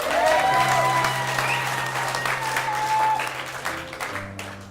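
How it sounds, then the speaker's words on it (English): A theatre audience applauds itself after a children's stage show, loud close clapping with some tonal music or feedback in the background, tapering over the final second. "Give yourself a round of applause."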